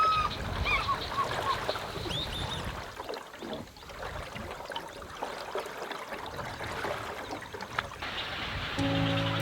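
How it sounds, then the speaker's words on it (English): Large nesting birds at a busy African heronry, mostly storks, with honking and squawking calls over a constant colony din and faint splashes, fairly close and continuous. "Up ahead is the heronry with thousands of large nesting birds."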